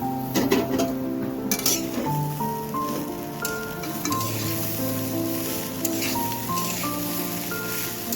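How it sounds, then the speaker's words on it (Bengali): Rice for pulao fries in a pan over low gas, giving a soft steady sizzle with light clinks and scrapes of stirring, close by, while a tonal background hum runs beneath and no one speaks. "গ্যাস কমিয়ে ভাজতে থাকবো।"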